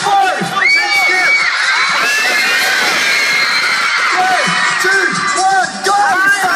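A large concert crowd of young fans at the Brisbane Entertainment Centre screams and cheers loudly and continuously, with high shrieks and whoops packed together throughout.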